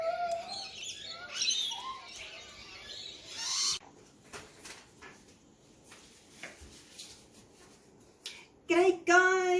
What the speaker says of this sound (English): Oh, there's a cockatoo.